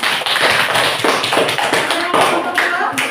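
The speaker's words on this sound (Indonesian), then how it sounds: "Tepuk tangan untuk mereka." Students in a classroom clap for a group that has just presented, a loud, dense round of quick, uneven handclaps that continues without a break, with some voices mixed in.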